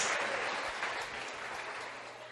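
A church congregation applauds at a Sunday service, a dense wash of many hands clapping steadily at moderate distance, fading slightly toward the end.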